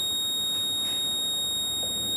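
The small buzzer of a RoboGuard alarm blares a continuous high-pitched tone in place of a siren. It stays loud and unbroken throughout, with no speech.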